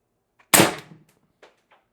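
A single sharp, loud crack from an Umarex TR50 air rifle fitted with an 8-inch sniper barrel extension and powered by HPA, followed by a couple of faint mechanical clicks in an otherwise quiet setting.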